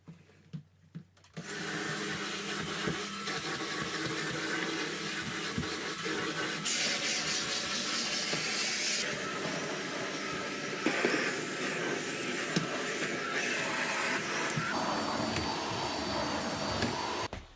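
A 2018 Dyson Ball Animal 2 vacuum cleaner runs on a rug: a steady, loud whooshing roar starts after a few clicks and holds throughout, with slight changes in pitch as it moves.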